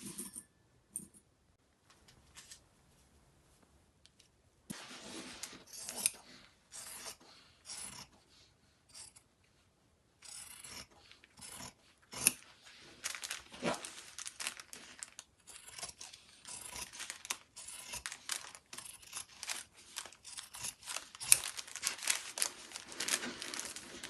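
Scissors cutting fabric espadrille pattern pieces on the fold, close and quiet: intermittent rasping snips and rustling cloth that begin sparsely, then grow denser and steadier, with no talking.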